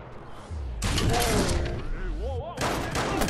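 Rifle shots from an AK-47 in the video game Watch Dogs, loud bursts starting about half a second in and returning near the end, with a few separate cracks and some mechanical clatter and other game sounds between them.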